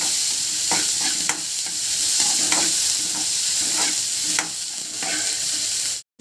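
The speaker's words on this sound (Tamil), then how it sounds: "இப்போ இதை லைட்டாக வதக்கிக்கோங்க." Onions sautéing lightly in a pan for a drumstick gravy, a loud continuous sizzle broken by repeated spoon stirs and scrapes, cutting off abruptly at the end, with no talking.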